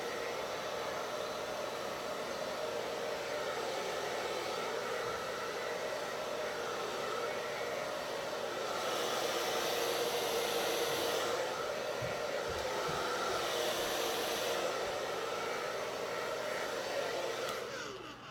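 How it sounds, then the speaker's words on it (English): A hair dryer blows on freshly set damp hair for a vintage 1920s wet set, a steady loud whooshing roar that runs without a break, rising slightly in the middle, with no talking. "I'm just gonna blow dry it all a little before I wrap it up with a cool scarf."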